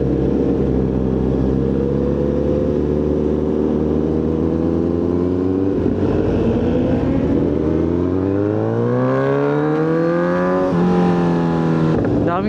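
Road traffic on the Marilaque highway around a Kawasaki Z900RS motorcycle: close engines drone steadily, then rise in pitch as vehicles accelerate, with wind rush and no voices.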